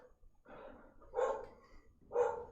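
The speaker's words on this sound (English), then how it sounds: "Bark, bark." A dog in the video game Bloodborne gives two muffled barks or growling yips, moderately quiet, spaced about a second apart after a softer low rumble.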